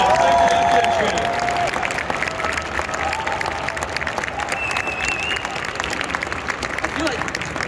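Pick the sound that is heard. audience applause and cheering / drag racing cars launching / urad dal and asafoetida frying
audience applause and cheering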